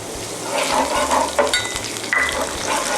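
Light soy sauce hits hot oil and golden fried garlic in a pan, bursting into loud, steady sizzling with stirring scrapes and a sharper spit partway through.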